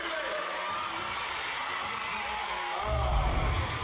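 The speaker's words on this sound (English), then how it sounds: "Now they've got the home crowd involved as well." A home crowd at a WNBL women's basketball game between UC Capitals and Sydney Flames cheers steadily in a large arena, swelling louder near the end, with a faint voice under the noise.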